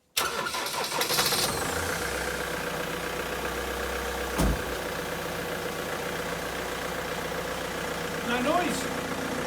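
A 2008 Ford Transit engine cranks briefly and catches, then settles into a steady mid-pitched idle that runs on to the end, with a short louder surge partway through and faint voices in the background.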